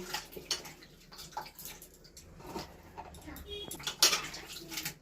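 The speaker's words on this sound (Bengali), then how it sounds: "এই ঝুড়িটার উপরে দিয়ে আমি ভালো করে জলটা যাতে না থাকে ভালো করে ঝেড়ে নেব।" Sliced potatoes are shaken in a basket to drain off water, giving close, irregular rattles, splashes and drips in bursts.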